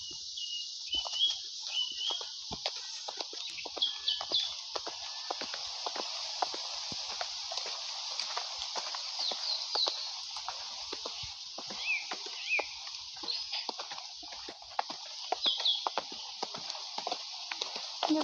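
A ridden horse clip-clops at a steady walking rhythm during a training session, hoofbeats close and even throughout with no talking.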